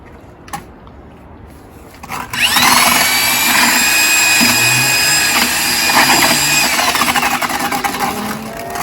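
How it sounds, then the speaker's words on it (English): A power drill mixing a stucco base coat with water spins up and runs steadily and loudly, churning through thick mix with a whining, slightly wavering tone for several seconds. "we just add a little bit of water to this stuff here and then sting it with a drill"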